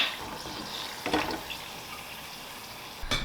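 Tortilla fish patties frying golden brown in oil give a steady, soft sizzle, with two brief louder bursts of spitting oil partway through and near the end.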